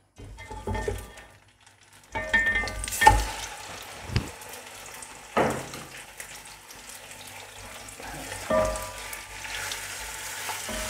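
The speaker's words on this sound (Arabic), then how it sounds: "يدير شويه تاع لا مارغارين وشويه تاع الزيت بسم الله هكذا دوكا نرمي الطرف تاع الدجاج" Chicken pieces are dropped into a pan of hot margarine and oil, giving soft sizzling and frying with intermittent clatters and stirring bumps, fairly quiet and close.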